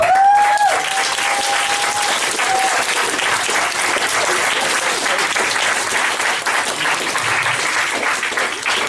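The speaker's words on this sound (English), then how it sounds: "So a big clap." Wedding guests clap during a father of the bride speech, giving full, sustained applause that holds steady for several seconds, with a short whistle near the start.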